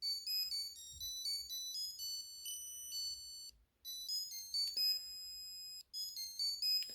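A high, electronic beeping melody plays in quick notes, with two brief pauses between phrases and no voices.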